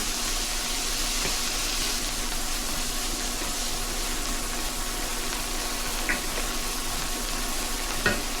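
Chopped onion frying in a pan, a steady even sizzle that holds at a constant level throughout with a couple of faint clicks near the end, and no voices.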